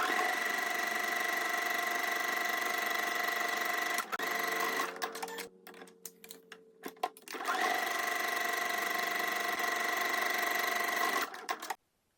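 A sewing machine stitches dress pieces together with a 1/2 inch seam for a shirred spring dress. It whirs steadily for about four seconds, pauses amid light handling clicks, then runs again in a long, even burst.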